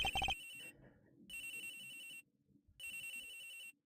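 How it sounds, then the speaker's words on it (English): An in-game phone rings in Ace Attorney Investigations, a bright electronic ringtone sounding in three repeated bursts with short silent gaps, alone with no talking. "Agent Dick's phone. It's ringing somewhere else."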